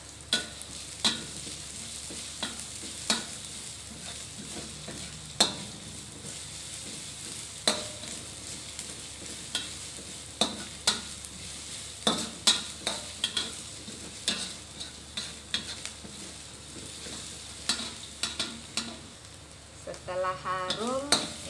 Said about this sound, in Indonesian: Terus masukkan bawang bombay cincangnya.